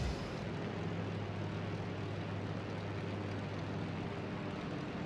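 A propeller aircraft engine in Microsoft Flight Simulator 2020, heard with the throttle eased back, drones loudly and steadily over an Arctic flight, a continuous broadband roar with a low hum and no voices.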